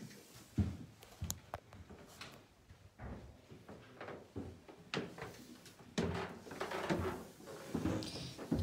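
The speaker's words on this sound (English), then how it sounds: "these creaky stairs." Footsteps come down creaky old stairs in a historic house: a series of close, uneven thuds and wooden creaks with no talking.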